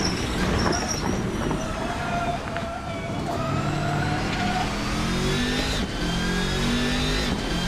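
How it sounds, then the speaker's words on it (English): A racing car engine in an Assetto-style sim racing game climbs and shifts through gears, loud and continuous, with rising whining tones and rough mechanical texture and no talking. "The car just sounds outstanding"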